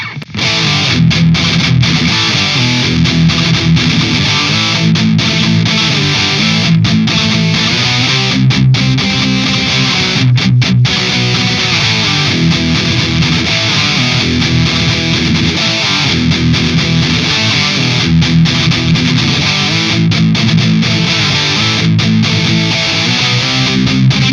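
A heavily distorted electric guitar plays a dense, loud and continuous riff, dialed in through AmpliTube 5 with a compressor added.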